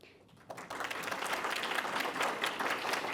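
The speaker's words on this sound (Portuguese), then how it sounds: "uma salva de palmas para Kátia Helena Serafina Cruz Schwartzcard" An audience breaks into applause for a speaker introduced at an education event, clapping swelling quickly after a quiet start into steady, full applause from a sizable crowd that carries on to the end.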